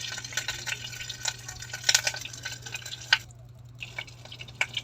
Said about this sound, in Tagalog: Ito yung makulo na ating mantika.